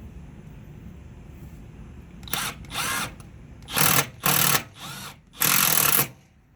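A power drill drives screws into door cards on a 1986 Mazda RX-7 FC3S, several short whirring bursts of rising and falling speed, close and loud, separated by brief pauses.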